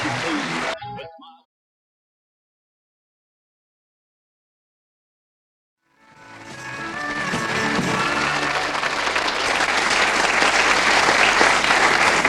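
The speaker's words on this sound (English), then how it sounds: "That applause doesn't last." Audience applause at a country music event, a short burst at the start that cuts to silence, then clapping swelling back in and building into a loud, sustained ovation.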